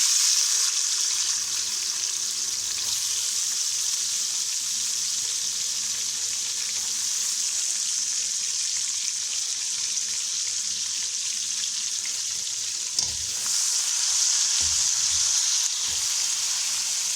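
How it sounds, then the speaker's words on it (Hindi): Chopped onions frying in a pan for a cooking dish, a steady loud sizzle that continues unbroken with a few soft clanks of stirring near the end, no talking. "प्याज फ्राई हो चुके हैं।"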